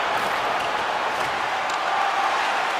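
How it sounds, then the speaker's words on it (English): An arena crowd in the NHL 24 hockey video game, Dallas Stars vs Colorado Avalanche, gives a sustained roar of cheering and applause at the end of a hard-fought game, loud and steady throughout. "And the crowd's on their feet, saluting the team after a hard-fought effort this evening."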